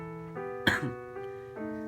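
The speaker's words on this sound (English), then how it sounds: "judging by the cough, I'm still sick" A single sharp cough breaks out over soft, steady humming tones.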